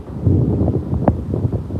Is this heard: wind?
yes